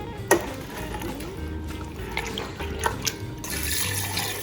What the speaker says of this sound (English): And then I throw water.